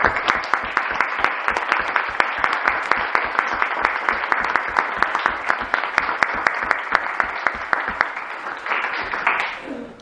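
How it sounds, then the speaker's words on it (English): Audience applause at a college trainee graduation ceremony for the participants, a steady, dense burst of many hands clapping for about nine seconds before tapering off, with no talking over it. "I would like to give a round of applause to all the participants for showing such bravery."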